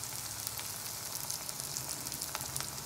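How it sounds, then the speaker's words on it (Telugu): Ginger garlic paste frying in a pan for a mutton curry, a steady close sizzle with small crackling pops throughout, moderately loud and unbroken. "కొంచెం ఫ్రై చేసుకోవాలి ఇప్పుడు మనం అల్లం వెల్లుల్లి పేస్ట్ వేసుకోవాలి"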